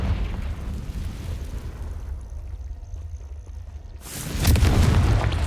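A Confringo fire spell blast in Hogwarts Legacy, a sudden loud burst near the end after a quieter rumbling stretch, booming close and filling the space.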